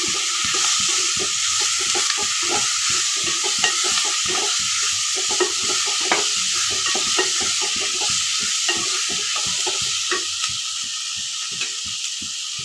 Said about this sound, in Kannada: ಬಾಡಿದ ನಂತರ ತೊಗರಿಕಾಯಿ ಅದು ಎಣ್ಣೆಯಲ್ಲಿ ಬಾಡಿಸ್ಕೋಬೇಕು